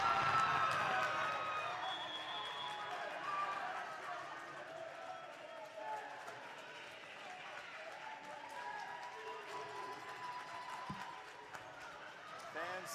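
Crowd at a high school volleyball championship match between Bishop Tonnos and Dunbarton, cheering and clapping loudly at first, then settling into a steady, fainter crowd murmur with scattered claps.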